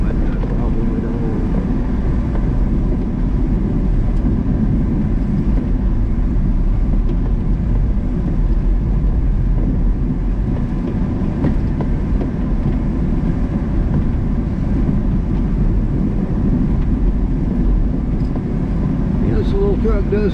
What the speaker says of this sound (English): Truck does good on ice and snow.